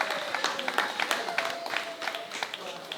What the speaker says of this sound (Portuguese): uma oferta de aplauso